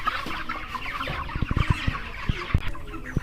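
Broiler chickens in a poultry shed clucking in a busy, overlapping chorus, with scattered close clucks over a constant background of the flock.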